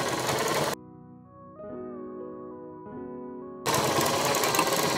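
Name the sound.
sewing machine stitching a blouse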